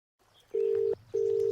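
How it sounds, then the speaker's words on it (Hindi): A telephone rings with two short, steady electronic tones in quick succession, clear and close against a faint background. "फोन आया है।"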